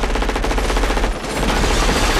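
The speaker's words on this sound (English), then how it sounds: "So much gunfire." Sustained automatic gunfire from the 1988 action film Die Hard, a dense, continuous rattle of rapid shots with glass nearby, loud and unbroken for the whole stretch with only a brief dip midway.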